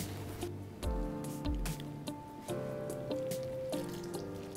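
Water poured into a bowl of vegan gluten-free bread dough ingredients, giving a steady liquid fill with several dripping, splashing pulses, heard close and alone without talk.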